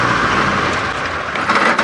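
A safari vehicle's engine turns over and runs again after stalling on a steep hill, a steady loud motor rumble close by with no talking.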